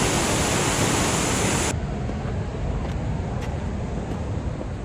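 A torrential waterfall on the river Nile roars as a dense, unbroken wash of loud noise, with wind buffeting the microphone.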